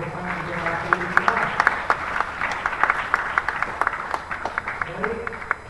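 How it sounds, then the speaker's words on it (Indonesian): An audience at a National Education Day dialogue event claps together, a steady stream of sharp, close hand claps that continue evenly throughout, with some voices mixed in. "Tepuk tangan untuk kita semua, tepuk tangan untuk generasi kita"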